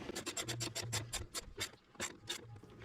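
Tightening a hose clamp on the air filter housing of an Alfa Romeo Giulia gives a run of quick, close ratcheting scratches in regular bursts, slowing and spacing out toward the end.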